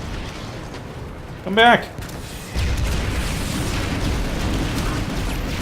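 Explosions in the video game Planetside 2: a loud rumbling blast that swells and lingers as a dense roar, with a short shouted voice just before it and constant game noise throughout.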